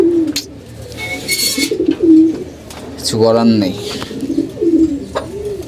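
Pigeons cooing up close in a loft with eggs, repeated throaty low coos in soft pulsing bursts, while a person talks briefly between them.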